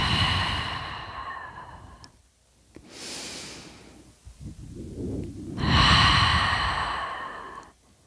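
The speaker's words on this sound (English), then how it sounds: "and breathing out." Slow audible breathing during a seated yoga twist, with long exhales and inhales separated by quiet pauses, close and soft, with no talking.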